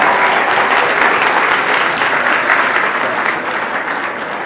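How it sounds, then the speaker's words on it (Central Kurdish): Loud, sustained applause from an audience welcoming Dr. Barzan Bekas at a Kurdish event, dense clapping that holds steady and fades slightly toward the end. "بە یەک چەپڵەی قایم هەموو پێشوازی با لە دکتۆر بەرزان بێکەس بکەین"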